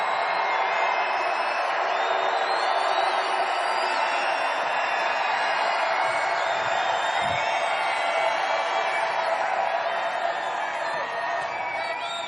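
A packed outdoor presidential campaign rally crowd in Denver roars continuously, a dense wall of cheering and whoops holding steady and loud for the whole stretch, with no single voice standing out.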